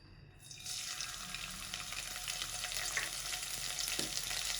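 Crushed garlic, green chili and cumin hit a pan on low heat, a sudden burst of close sizzling that settles into a steady crackling hiss with an occasional stir.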